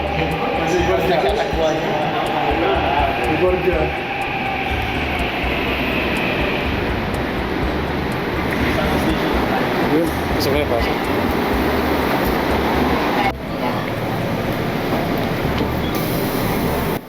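A train rumbles steadily nearby with continuous loud mechanical roar in South Korea, while people talk over it in Filipino throughout.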